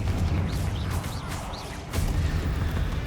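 A Confringo blasting spell goes off in Hogwarts Legacy, heard as a sustained low rumbling boom with crackling bursts and a fresh heavy thump near the end, loud and continuous with no talk.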